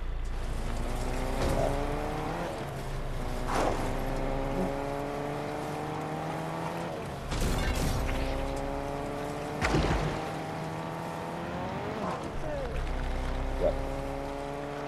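A vehicle driven in the Fortnite video game, a steady engine drone whose pitch rises and falls with repeated gear-shift-like sweeps and bumps, fairly close, a voice occasionally heard underneath.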